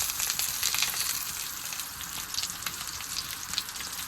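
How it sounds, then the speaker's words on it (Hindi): Eggplant with tomato fries in about half a cup of oil over low heat, giving a steady, close crackling sizzle with soft spitting pops throughout and no voices. "बैगनों को हल्की आंच पर हल्का सा फ्राई करेंगे ताकि सॉफ्ट हो जाए"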